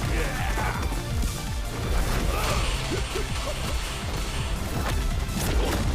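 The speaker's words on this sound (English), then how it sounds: "That's a Street Fighter sound effect." Fighting-game hit effects from a Death Battle between Heihachi Mishima and Geese Howard land as a series of loud smashing thwacks and crashes over dense music and game noise.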